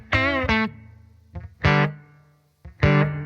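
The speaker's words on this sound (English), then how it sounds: "If I push the effects button, I can increase the effect that's selected. I think it's a reverb." Guitar notes through a Blackstar Beam Mini amp with a reverb effect, several short chords and bursts that ring out and fade with a distorted, spacious tail.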